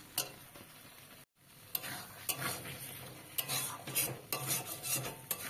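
Potatoes being stirred into cooking masala in a pan for a beans curry: a spoon scrapes and taps against the pan in irregular strokes over a soft, steady sizzle, close and fairly quiet, with one brief silent gap.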